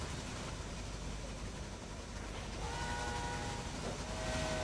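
Passenger train running in the railway strategy game Railway Empire, set in Great Britain and Ireland, a continuous rumbling roll with a brief steady horn tone rising over it toward the end.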